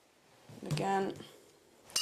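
A spoon scrapes and clinks against a bowl while a healthy ice cream base is stirred, giving a short metallic scraping ring followed by a faint tap.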